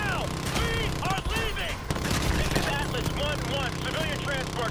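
Heavy gunfire in a Call of Duty Modern Warfare 2 remastered campaign battle, with a continuous rattle of automatic fire and scattered shots over a loud, busy battlefield din. Voices shout over the noise throughout.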